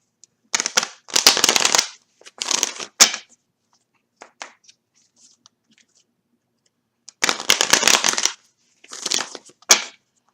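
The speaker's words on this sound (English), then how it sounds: "let's shuffle them then." Bursts of papery riffling and crunching as tarot cards are shuffled, several quick rounds separated by quiet pauses and small taps.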